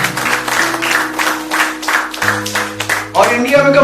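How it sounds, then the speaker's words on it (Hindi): Audience clapping at a Zero Se Shikhar Tak leadership event, a brief burst of applause layered with a voice talking and background music tones. "ताली तो बजा दो उसके लिए"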